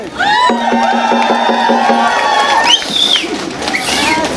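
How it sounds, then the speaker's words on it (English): Crowd cheers and calls at a gathering honouring an elder, a loud mix of voices with a sustained whistle-like tone and scattered shouts throughout. "So all of you who are there with me, give us a cheer."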